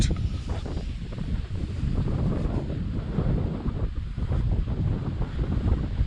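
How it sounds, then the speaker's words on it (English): Steady wind gusting outdoors on a breezy day, roaring and buffeting close against the microphone throughout with no speech. "It is a little bit windier today"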